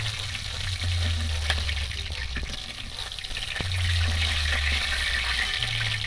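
Chicken pieces for biryani sizzle and crackle steadily as they fry in their own released fat, with broadband spitting and a low steady hum from the stove running underneath throughout.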